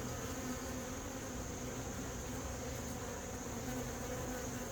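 Carniolan honeybees, workers and drones, fill a horizontal hive during a late-season inspection with a faint, continuous, even buzz that holds steady throughout, with no voices.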